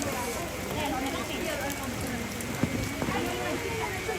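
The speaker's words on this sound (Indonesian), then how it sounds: "susah bergerak ini karena hujan" Rain pours steadily during a funeral gathering in Mila', a dense, constant hiss of drops on surfaces that fills the whole stretch, with faint voices mixed in beneath it.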